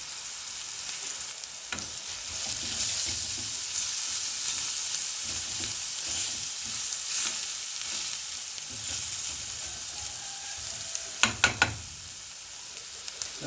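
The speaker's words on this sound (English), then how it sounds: "and I will stir it. Now goes my masala." Masala sizzles and fries in a pan as it is stirred while cooking for lamb mince cheese paratha, a steady hiss with soft scraping and a few sharper clatters near the end, no talking.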